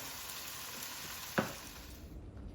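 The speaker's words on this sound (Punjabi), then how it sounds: "ਇਹਨੇ ਮੈਂ ਲਾਵਾਂ ਸਬਜ਼ੀ ਨੂੰ ਤੜਕਾ" A steady soft sizzle of spices tempering in hot oil for a vegetable dish fills the clip, with one brief sharp clatter midway.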